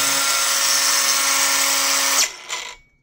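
A Craftsman V20 brushless cordless cut-off tool spins at full speed with a loud, steady high-pitched whine, then winds down after release, followed by a brief rattle as it coasts to a stop.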